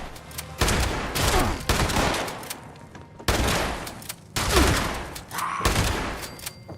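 Shotgun blasts in Fallout 76, several loud, booming shots in quick succession with reverberant tails between them, with no talking.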